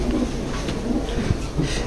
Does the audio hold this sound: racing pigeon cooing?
yes